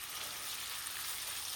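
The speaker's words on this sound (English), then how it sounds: "when my fat is sizzling away, I'm going to add" Chicken pieces sizzle in butter and oil in a frying pan, a steady hiss of fat that carries evenly throughout without any voices.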